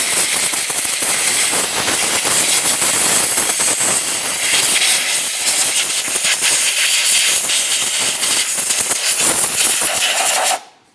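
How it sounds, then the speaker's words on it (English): Compressed air blasting debris off the valve cover of a 2.5L 2012-2018 Nissan Altima engine, a loud continuous hiss with short sputtering bursts that runs almost eleven seconds and then cuts off abruptly. "We'll use some compressed air."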